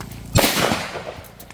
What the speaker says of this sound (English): I'm gonna go ahead and just shoot this table.